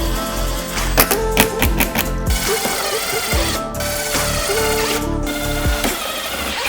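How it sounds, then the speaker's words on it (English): Power tool screwing a side skirt onto a car, loud close whirring bursts with sharp tapping clicks at the start, then sustained mechanical drive noise. "let's get screwing these all on"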